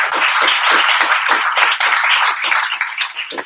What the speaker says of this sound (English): So let's give Jeffrey a round of applause.